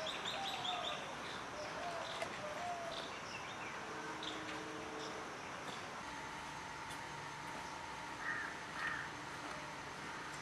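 Crows caw faintly in the distance, with scattered calls and thinner bird chirps over a steady, hissy outdoor background.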